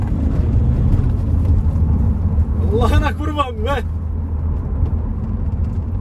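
A Volkswagen Caddy driving, heard from inside as a loud, steady low engine and road rumble throughout, while someone speaks briefly over it midway.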